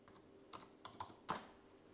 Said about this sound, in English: You can see the keyboard's working fine